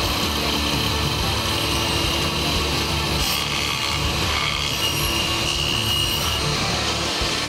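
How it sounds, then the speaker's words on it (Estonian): A plate saw cuts side-by-side notches into wood while making a coffee or children's table, giving a loud continuous grinding whine with rough scraping texture that runs unbroken throughout. "Sellise tapi tegemisel tuleb siis kõigepealt saagida hea, kui on olemas selline platesaag, sälg sälgu kõrvale."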